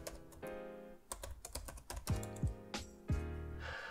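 Keys clatter on a computer keyboard as a terminal command is typed. The close, quick run of clicks plays under a steady layer of tonal, musical sound.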